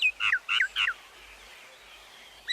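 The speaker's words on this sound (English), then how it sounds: "It's the common myna that really fucks me off. Those birds must die." Common myna birds call close by in a garden, a quick series of three or four bright, warbling chirps in the opening second, then a quieter pause before another call begins at the end.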